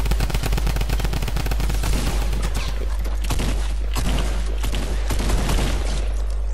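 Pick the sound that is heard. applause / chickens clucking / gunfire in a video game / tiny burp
gunfire in a video game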